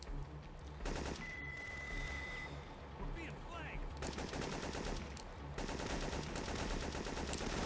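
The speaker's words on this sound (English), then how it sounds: "Heavy sniper fire from the end of the valley." Gunfire in the video game Syphon Filter 3, heavy sniper fire from the end of a valley, rattling in dense rapid bursts with game music and effects throughout, loud and continuous with a short lull near the middle.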